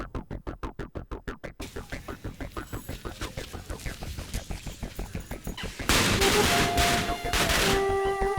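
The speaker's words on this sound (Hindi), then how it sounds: "प्लीज पटाखे मत जलाओ, प्लीज मत जलाओ।" Diwali firecrackers go off in a rapid, evenly spaced string of sharp pops, close and loud, then give way to a denser, sustained roaring crackle near the end.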